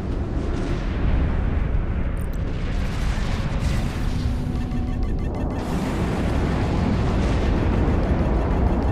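A destroyed dreadnought in a space combat video game explodes in a long, loud, roaring blast that rumbles and crackles continuously for several seconds.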